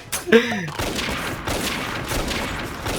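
Rapid gunfire bursts in the online shooter Avatar Star, dense and steady throughout, with a brief voice-like tone near the start.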